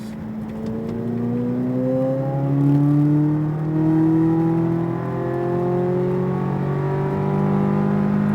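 A Corvette Z06 on the SpeedVegas race track pulls hard, its engine note climbing through the gears in a strong, rising howl with small dips between shifts. The car is heard alone.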